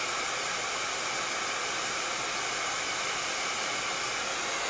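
A hair dryer runs steadily and fairly close, blowing to dry a handmade craft spider web; a constant broadband whoosh with no breaks and no talking.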